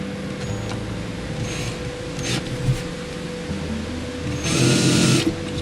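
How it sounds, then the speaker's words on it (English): A power drill pre-drilling holes: a steady mechanical whir with short drilling bursts, the loudest near the end, close by and with no talk. "I'm going to pre-drill these holes"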